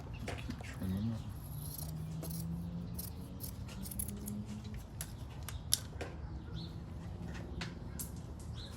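Scissors trim the edges of a bodywork filler piece with a series of faint, crisp snips and light scraping against a quiet room background, with some soft talking.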